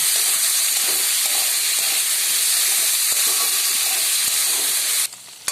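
Potatoes frying in oil give a loud, dense, continuous sizzle up close, with faint taps of stirring underneath, until the hiss drops away abruptly near the end.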